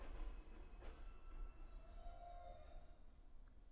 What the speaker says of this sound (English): The train's passing in the background.